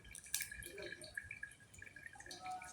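Kangkong (water spinach) is washed in water, with light drips and splashes close by, soft and uneven, under faint background noise.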